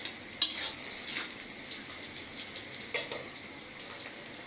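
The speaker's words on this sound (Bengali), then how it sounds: "পেঁয়াজগুলো আবার নেড়ে চেড়ে নিয়ে বাদামি কালার করে নেব।" Onions stirred and fried until brown for a fish-head kuishak curry, giving a soft continuous sizzle with occasional scraping taps of a spatula in the pan, steady and fairly quiet throughout with no one speaking.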